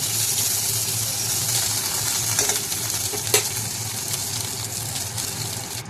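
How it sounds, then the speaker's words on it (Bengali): Ivy gourd (kundri) frying steadily in a pan, a continuous bright sizzle throughout with a couple of soft stirring scrapes and clinks near the middle, close and fairly loud, no voices. "এখন দেখো কুর্তিগুলো হালকা হালকা ভাজা হয়ে এসেছে, আর একটু ভালোভাবে ভেজে নেব।"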